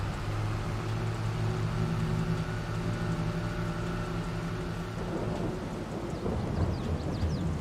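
Steady rain patters alongside a long low roll of thunder in a Farming Simulator game, continuous and fairly loud, with the rumble fading and the rain becoming more prominent toward the end.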